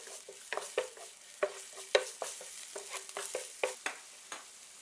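Scallion, garlic and ginger are stir-fried over low heat. A spatula scrapes and clinks against the pan in quick, irregular strokes over a soft, steady sizzle, close and fairly quiet.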